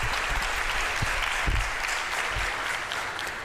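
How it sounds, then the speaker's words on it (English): An audience at a mayoral matric awards ceremony gives a sustained round of applause, loud and dense, holding steady throughout with no one speaking over it. "Can you give the class of 2025 a round of applause before we start?"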